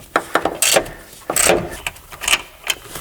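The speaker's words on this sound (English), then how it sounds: "we're gonna go ahead and loosen up the bolts." A ratchet turning a 12mm deep socket loosens coilover bolts on a Nissan Skyline R33 GT-R, heard as close bursts of quick clicking and clunks in irregular spurts with short pauses between.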